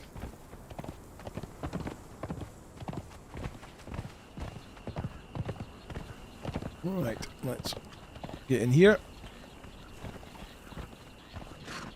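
Horse hooves clip-clopping in a steady walking rhythm in the video game Conan Exiles, running under near-constant talk from a man throughout, with a brief louder tonal sound near the end.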